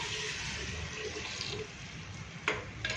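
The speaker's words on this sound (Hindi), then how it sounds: "अब हम इसमें 2 गिलास पानी ऐड करेंगे।" Two glasses of water are poured into spiced, fried meat for an Eid shahi qorma, giving a close, steady rushing splash that eases off, with a couple of short clinks at the end.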